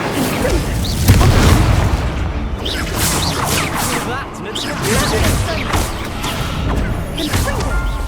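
Incendio fire spells cast in the video game Hogwarts Legacy during combat, bursting in repeated loud booms and whooshes amid a dense mix of other spell impacts and effects, with voices talking throughout.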